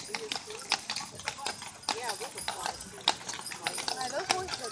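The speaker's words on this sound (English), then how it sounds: "Those horses are big." Big horses in a Fourth of July parade clip-clop along pavement in a steady, uneven rhythm of sharp hoof strikes, close and fairly loud, with people talking over and between the steps.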